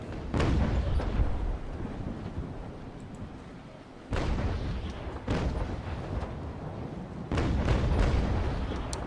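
Booming ship cannon blasts in the naval video game Naval Action go off a few seconds apart, each a deep heavy thud with a rumbling tail, fairly loud against a low ambient background.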